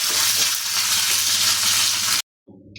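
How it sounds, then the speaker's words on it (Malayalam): Curry leaves and coconut pieces sizzle loudly in hot oil for a mutton pepper roast, a steady close frying hiss that cuts off abruptly near the end before a fainter sizzle resumes. "അതിലേക്ക് നമ്മളിത് കുറച്ച് കറിവേപ്പിലും കൂടി ഇട്ട് കൊടുക്കുന്നുണ്ട്"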